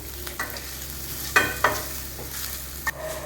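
Soya chunks coated in masala fry in a pan while a spoon stirs them, giving a low steady sizzle with a few soft scrapes and clicks against the pan, quiet and close.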